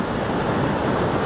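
Ocean waves wash in on the sand at Ocean Shores beach, Washington, a steady, dense roar of surf mixed with wind buffeting the microphone for the whole stretch, with no voices.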